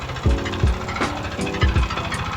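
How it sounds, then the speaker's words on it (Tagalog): A Yamaha NMAX 155 V1 scooter engine idles roughly with a faulty connecting rod, giving a series of sharp, irregular metallic knocks, about six heavy thumps over a low running hum, heard close up. "Ganitong tunog ng motor nyo, panigurado, black or tsaka connecting rod."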